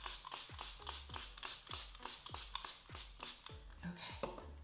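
Makeup setting spray is pumped onto the face in a quick run of about nine rhythmic spritzes, each a short hissing burst with a soft click of the nozzle, close up.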